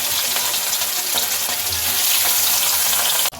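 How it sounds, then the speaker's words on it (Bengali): Fish sizzles in hot oil in a home kitchen pan, a loud steady crackling fry that continues throughout and stops abruptly near the end. "মাছটা ভাজবো।"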